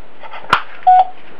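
A touch-tone telephone being dialed, with a short click followed by a single steady dialing tone about a second long, heard alone against quiet background noise.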